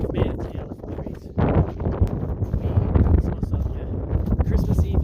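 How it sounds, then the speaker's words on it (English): Strong wind buffets the camera microphone outdoors on a walk to the elephant trees, producing a loud, continuous low rumble and crackle that swells and gusts throughout. "I apologise if it's windy and you can't hear me"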